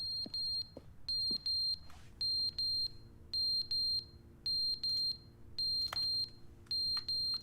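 A fire alarm in the video game The Stanley Parable beeps in short, sharp bursts of two or three tones, repeating about every second over a low background hum, with no voices.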